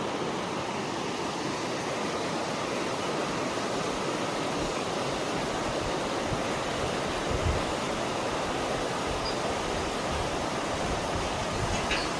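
A waterfall near a hanging bridge in Bhutan roars as a dense, constant rush of falling water, loud and close, with no gaps or voices.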